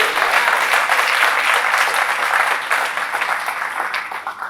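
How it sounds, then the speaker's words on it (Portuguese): Loud, sustained applause from a large church congregation, a dense continuous wash of clapping that holds steady and begins to thin slightly toward the end. "Vamos aplaudir ao Senhor por isso."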